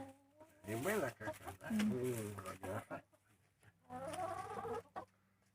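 Backyard chickens and ducks cluck and call in short rising bursts, close and fairly quiet, with a woman's speech also present.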